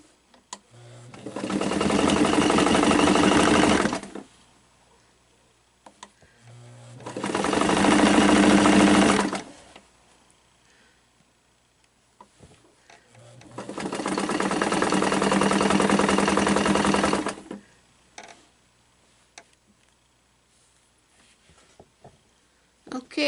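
Sewing machine stitching a zigzag seam on fabric for an Easter table topper, three separate bursts of fast, steady whirring and clattering separated by quiet pauses.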